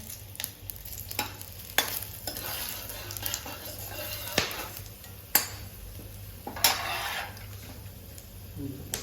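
Spices sizzle in hot cooking oil and mustard oil for chicken biryani, a close steady crackle. Sharp clinks of a utensil against the pot break through now and then.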